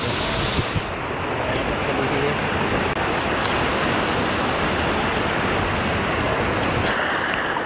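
Rushing water at Sinapulan Falls fills the scene with a dense, steady roar, loud and close throughout, with some wind buffeting the microphone and no voices.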